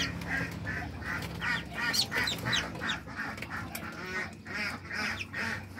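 Muscovy ducks and tiny ducklings call while being fed on a small hobby farm, a busy chorus of close, repeated honking quacks and high peeping that goes on throughout.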